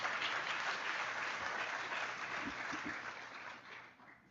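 A conference audience gives a round of applause for portraits at an investing event, a broad, steady clapping that holds at even volume and then thins and fades out toward the end.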